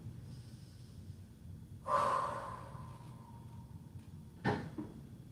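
Slow breathing from a person resting in child's pose during a full-body workout, with a soft drawn breath around two seconds and a sharper exhale near four and a half, otherwise quiet.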